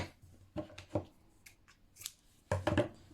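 Scissors snip through crochet yarn at the end of a row of a crocheted bag, giving a few short, close, crisp cuts separated by quiet gaps, with a final quick double snip.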